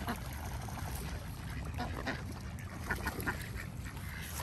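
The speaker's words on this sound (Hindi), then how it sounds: "ये अब बड़ी बतखें जो है ना वो भी आ गई हैं, और उनकी आवाज़ें भी आपको आ रही होंगी" Large ducks quack repeatedly amid dense outdoor background noise, their calls overlapping and blending into the steady ambient hiss, moderately distant rather than close.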